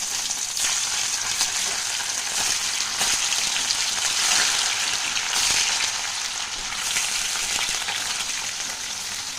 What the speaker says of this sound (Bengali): জল দিয়ে ধুয়েছি তো চটপট করছে, তো হালকা করে ভেজে নেবো পনিরটা।